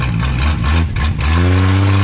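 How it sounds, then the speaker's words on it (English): A 1962 Ford Falcon Tudor's inline six engine revving hard with the car held in place to squall the tires, a loud, sustained, close engine roar that dips briefly and then climbs to a steady high pitch. "Y'all tell me that inline six won't squall a tire."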